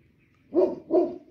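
A dog gives two quick, fairly loud barks close by, one right after the other, with quiet before them.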